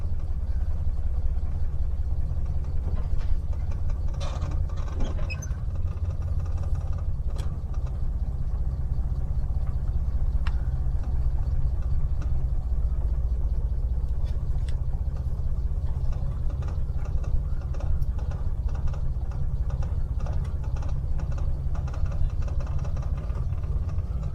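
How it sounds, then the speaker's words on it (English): A Suzuki Mighty Boy's small engine idles steadily, giving a continuous low, even rumble close by with no voices, after sitting unstarted for a couple of weeks. "Just quietly wander out on idle basically."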